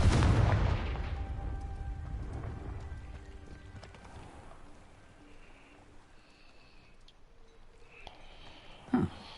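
A Confringo blasting spell explodes in Hogwarts Legacy with a loud booming burst that rumbles and fades over several seconds, followed by quieter game ambience and a sharp knock near the end.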